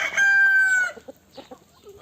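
A Ligorin rooster crows once, loud and close, then gives a few short clucks and quieter calls in the seconds after.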